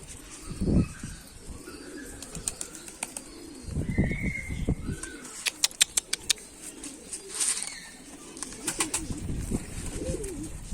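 Pigeons cooing close by outdoors, with several low throaty coo phrases rising and falling among sharp chirps and brief rustles over a few seconds, no speech.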